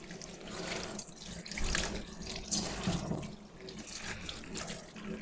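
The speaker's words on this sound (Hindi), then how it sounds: "इनको हम अच्छे से धो लेंगे" Raw unripe mangoes, four of them, are washed under a running kitchen tap, giving a steady splashing rush of water over the fruit with slight swells, close and alone with no voices.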